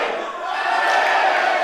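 A wrestling arena crowd chants in unison during a referee's count at a live match, a loud, sustained roar of many voices rising slightly as it goes.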